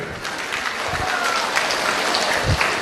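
Steady applause from an audience at a community cultural programme in Udupi, dense and continuous for the whole stretch, with crowd murmur under the clapping.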